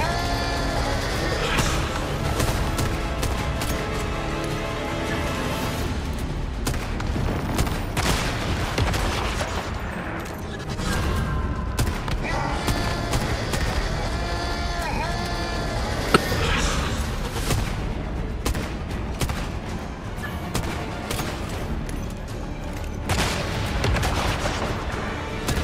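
Continuous gunfire in the survival shooter game Once Human, with dense overlapping shots and booms that keep up steadily throughout and stay loud and close.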